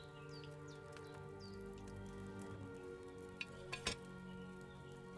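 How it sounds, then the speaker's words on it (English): A potion cauldron boiling over a flame in the video game Kingdom Come Deliverance 2, a quiet continuous bubbling and simmering with a few sharper pops near the end over a faint musical drone. "Hear that bubbling? It's boiling."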